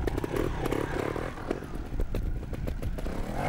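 A trials motorcycle engine fires up and runs with a loud, ragged, rattling roar, dense with clattering mechanical bursts throughout, out on an outdoor trials course.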